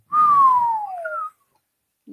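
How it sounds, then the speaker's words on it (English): A single clear whistle from a person on a live party broadcast glides slowly downward in pitch for about a second, loud and close, followed by silence and a faint brief sound at the end. "I'm surprised my whistle came off."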